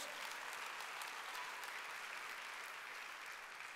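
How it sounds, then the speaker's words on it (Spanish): Steady applause from a crowd, continuous and even throughout, heard at a moderate distance. "dale un aplauso"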